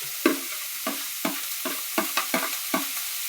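Ginger and green chili frying in a pan for upma, stirred with a spoon in a steady series of about ten sharp scraping taps over a continuous soft sizzle, close up and alone.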